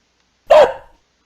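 A single short dog bark plays from an AI smart speaker, clear and close, standing alone against silence.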